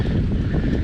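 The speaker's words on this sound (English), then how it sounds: "It's starting to get windy and a little bit cold." Strong gusting wind buffets the microphone on a cycling climb up the Passo Stelvio, a loud, continuous low roar that fills the whole moment with no other sounds.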